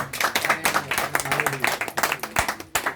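A congregation at Changanassery Cathedral claps loudly and rhythmically in quick, even beats, with a faint voice or sustained tone underneath.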